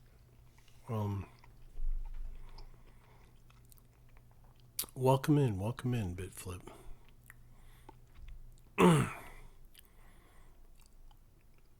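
Close, moist chewing of food in short bursts of crunching and mouth sounds in a quiet room, with a brief spoken greeting in between.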